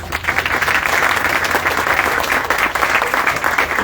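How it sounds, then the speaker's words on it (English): A crowd at an outdoor park groundbreaking ceremony in Akron claps steadily and loudly throughout, a dense, sustained wash of applause with no voices standing out. "give them a round of applause"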